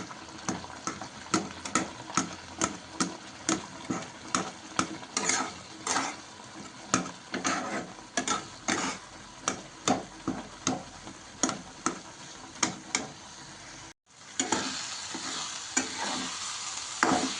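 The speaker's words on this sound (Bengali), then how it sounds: "একটু ভালো করে নেড়ে নেব" Semolina upma is stirred in a pan over low gas, a close, rhythmic series of scraping spoon strokes about twice a second over a soft sizzle, briefly pausing before the cooking noise resumes.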